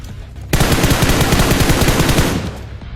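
Rapid automatic gunfire from the video game Free Fire bursts in suddenly and rattles on in a loud, dense stream for about two seconds, then fades out. No one speaks.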